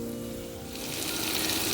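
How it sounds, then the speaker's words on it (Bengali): Sliced onions hit hot oil in a pan for a mutton ghugni, the sizzle starting soft and swelling into a loud, bright frying hiss within a second or two. "এখানে পেঁয়াজটা আমি ভাজতে দিয়ে দিলাম,"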